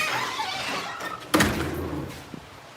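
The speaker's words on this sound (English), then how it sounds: "Let's shut the door." A door in a tiny home, not yet spray-foamed, swings shut with a single solid thunk, close and loud against faint room noise, followed by a small tap a moment later.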